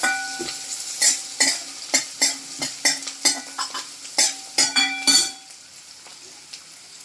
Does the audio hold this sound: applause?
no